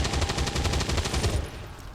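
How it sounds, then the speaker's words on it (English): Rapid automatic gunfire from soldiers shooting enemies in XCOM 2, a fast, loud, even burst of shots lasting about a second and a half before cutting off into quiet. "We're gonna shoot 2 of them"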